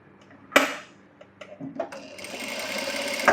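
A sewing machine stitches a designer-sleeve blouse, opening with a few sharp clicks and taps before settling into a rapid, steady mechanical whir toward the end.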